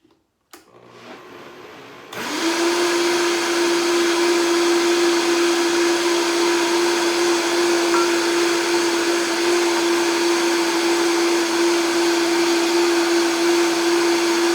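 A kitchen blender purees a sauce base of onion powder, nutritional yeast, salt and cornstarch. A click comes first, then a brief low hum, and then the motor ramps up into a loud, steady, high whir that runs without pause.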